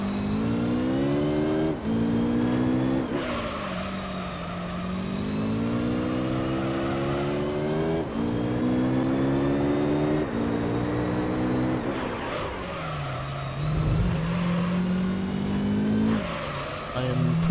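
Race car engines in Gran Turismo 3 drone and rise through repeated gear changes, a steady loud whine climbing and dropping in pitch, with a voice talking over it.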